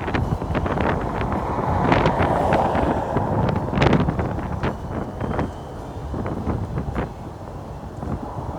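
Wind blowing outdoors, a steady roaring buffet across the microphone with gusts and scattered knocks and rustles, loud and close, no talking.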